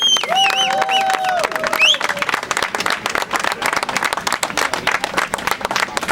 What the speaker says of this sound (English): So everybody please give a round of applause for Professor David Smith-Scalzo.